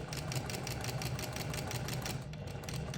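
A sewing machine runs steadily while stitching flange binding onto fabric, its rapid, even needle chatter close and continuous with no pauses, carrying on alone without talk.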